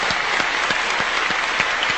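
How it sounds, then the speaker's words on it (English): A studio audience applauds a volunteer, Andy Gill from Bristol, at a live paranormal broadcast in Llanelli, with steady close clapping that fills the short span at an even level. "As the applause dies down"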